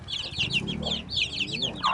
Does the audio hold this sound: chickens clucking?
yes